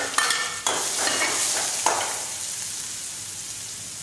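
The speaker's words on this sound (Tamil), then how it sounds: "கருவேப்பிலை வெள்ளைப்பூடு நல்லா வதங்கிடட்டும்" Curry leaves and garlic sauté in a pan for a Tamil bitter gourd tamarind curry, giving a steady close sizzle with a few sharp stirring scrapes early on that fade into softer frying hiss.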